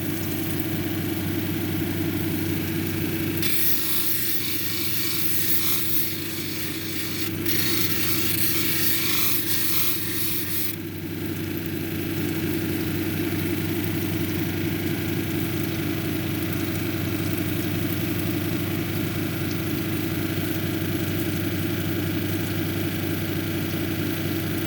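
A lapidary grinding wheel hums steadily with its motor, and a unakite cabochon is ground against the 280 grit wheel in a rougher rubbing stretch partway through.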